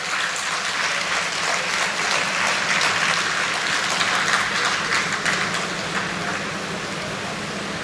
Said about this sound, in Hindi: ज़ोरदार तालियों से इस्तकबाल किया जाए।